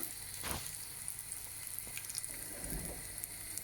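Pilchard fish cakes frying gently in oil on a small burner, a soft steady sizzle with faint crackles and pops, quiet and continuous with no talk.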